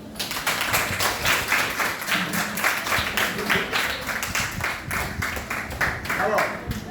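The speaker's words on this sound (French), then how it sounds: "On peut s'applaudir." A class of 5th-grade students applauds in a classroom, a steady patter of claps lasting throughout, with voices mixed in underneath.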